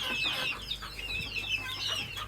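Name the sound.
desi chickens eating grass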